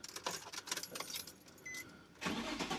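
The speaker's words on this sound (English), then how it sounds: "Let's see if it starts right up." Keys jingle and clatter, then a Nissan 350Z engine cranks and catches at the end, settling into a steady idle.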